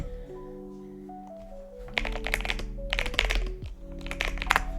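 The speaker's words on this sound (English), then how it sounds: "Ignore my typing skills." Typing on a computer keyboard sounds as quick, irregular clicking bursts close to the microphone, starting about halfway through, over steady tonal game music.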